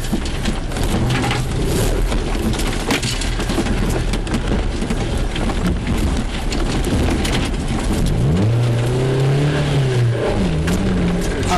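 An off-road rally vehicle climbs steep, rough terrain, its engine droning loudly and steadily throughout with a rising rev sweep near the end, joined by broadband rumble and rattle.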